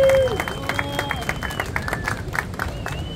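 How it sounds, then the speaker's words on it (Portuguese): A crowd at a surf festival award ceremony in Saquarema claps and cheers for a trophy winner, scattered applause under an announcer's amplified voice, with whistles and festival music in the background. "Belo, uma salva de palmas,"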